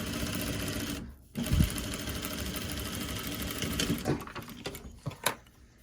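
A sewing machine runs steadily as it stitches face mask fabric with a quarter-inch seam. The whir pauses briefly after the first second, then resumes and ends in a few uneven bursts, loud and close with no voices.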